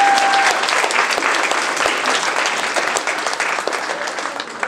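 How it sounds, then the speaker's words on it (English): Audience applause following a push-up demonstration at a motivational speaking event, a dense, steady wash of clapping that stays loud and close throughout before easing slightly near the end. "give him a round of applause"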